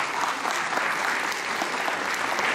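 Dense, sustained clapping from a large audience at a liberation anniversary celebration in Ankara, with a choir on stage, holds steady and fairly loud throughout.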